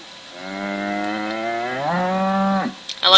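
Cattle mooing inside the video game WolfQuest: one long, loud, drawn-out moo with a rising pitch that swells and then cuts off, followed by a brief, sharp noise.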